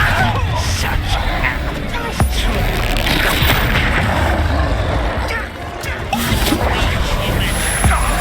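A Bombarda blasting spell explodes in the Hogwarts Legacy video game, a loud booming blast buried in dense, continuous combat noise and rumble, with a sharp impact spike partway through and steady crashing effects around it.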